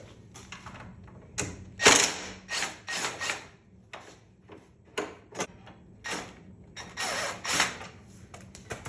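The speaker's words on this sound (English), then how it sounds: "T45 Torx for this bolt here to take this bar off, and also that bolt down there." A ratchet fitted with a T45 Torx bit works a bolt loose on a motorcycle crash bar, a series of close, irregular clicking bursts and short ratcheting strokes with brief pauses between them.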